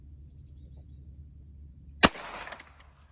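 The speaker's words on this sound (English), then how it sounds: "we will shoot another hollow point" A single sharp gunshot from a hollow point round cracks out loud and close midway through a quiet stretch, followed by a brief ringing decay and faint clatter.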